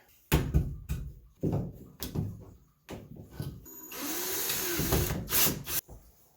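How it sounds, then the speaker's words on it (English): A hammer tapping a flathead screwdriver to tighten nuts while a bathroom vanity light fixture is installed. Several sharp, separate knocks are followed by a longer gritty scraping burst and a final few taps, all close by. "you just take a flathead screwdriver, use a hammer, and you hammer it in to make it tighter"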